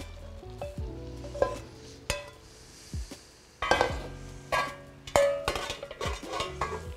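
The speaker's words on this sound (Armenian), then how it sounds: "Մեզ միայն մնում է խառնել։" A spoon stirs Armenian vegetable stew of potato, onion, carrot, canned peas and pre-fried meatballs in a pot, giving scattered scrapes, knocks and clinks against the metal over a soft simmer, with no talking.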